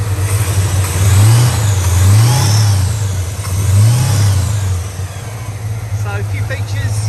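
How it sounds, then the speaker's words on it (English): The 468 cubic inch V8 in a 1970 Oldsmobile Delta 88 convertible revs up and settles three times in a smooth, deep swell, with someone talking faintly at the end. "The engine and the gearbox, they sound very turbine-y."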